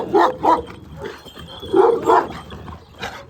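A dog barks several times nearby in short, uneven bursts, some sharp and some softer, with brief pauses between them.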